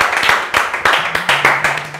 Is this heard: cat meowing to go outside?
no